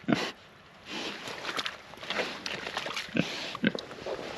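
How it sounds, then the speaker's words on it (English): Pigs grunt and snort in a muddy paddock where a sprinkler runs, giving a few close, brief oinks over a steady hissing spray. "You're gonna be a dirty pig."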